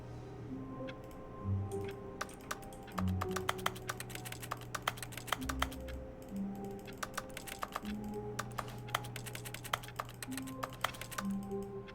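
Keyboard and mouse clicking while playing The Stanley Parable, irregular sharp taps in quick clusters and pauses over a quiet game backdrop with soft tonal music, close and fairly faint.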